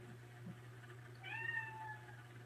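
A nervous kitten or young cat meows once in a short, drawn-out, slightly wavering call, fairly close, over a steady low electrical hum in a quiet room.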